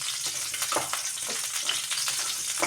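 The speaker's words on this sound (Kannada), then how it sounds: "ಇವಾಗೊಂದು ಕರ್ಬೇವು ಹಾಕಿ ಇವಾಗ ಸ್ವಲ್ಪ ಫ್ರೈ ಮಾಡ್ಕೊಳ್ಳೋಣ" Curry leaves fry in peanut oil with dry red chilli, a dense, steady crackling sizzle with small pops and faint stirring scrapes, close and moderately quiet.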